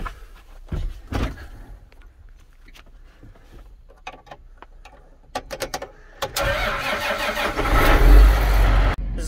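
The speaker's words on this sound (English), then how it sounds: "I'll start the tractor." Clicks and clanks give way to a tractor engine cranking and catching during corn harvest, then a deep rumbling idle that grows louder and steadier.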